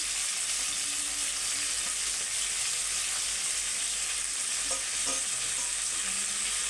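Tomatoes, green chilies, curry leaves and mint sizzle loudly in a pot for mutton pulao, with a dense, steady frying hiss and a few brief stirring scrapes near the end.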